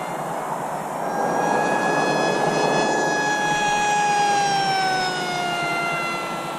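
An RMRC Strix Goblin RC plane flying at half throttle: a loud, steady electric-motor whine with a high, slowly shifting pitch that swells as it passes and eases slightly toward the end, with nothing else heard.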